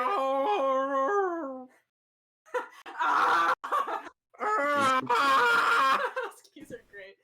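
A human voice imitates a husky howling in long, wavering tones, then repeats the howl, with laughter breaking in between the calls.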